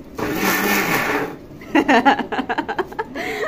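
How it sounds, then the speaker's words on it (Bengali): A hand blender whirs loudly for over a second, stops, then pulses in short rhythmic bursts toward the end. "হাতে কিন্তু ব্লেন্ডার করতেছি"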